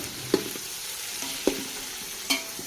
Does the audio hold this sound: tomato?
yes